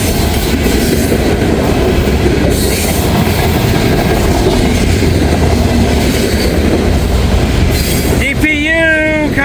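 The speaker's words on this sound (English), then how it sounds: "Into the trains coming up." A CSX / Norfolk Southern freight train rolls past in the rain in Kentucky, a loud continuous rumble of wagons and wheels close by, ending in high wheel squeals.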